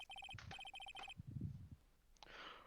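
A cell phone rings in the Phoenix Wright: Justice for All video game as a repeating electronic ringtone in short bursts. Thuds and a rustle follow, then a bright chime-like swell fades in.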